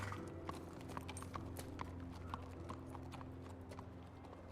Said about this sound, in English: I wonder how hard it is to keep these horses fed.